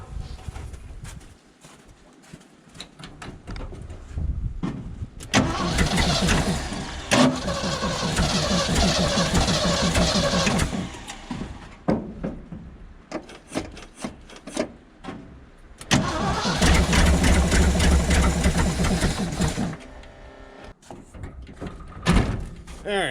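A 1975 Ford F750 pipeline truck engine cranks and catches, then runs in two long loud stretches separated by quieter gaps; the engine sound is close and rough, with occasional clanks and some talk.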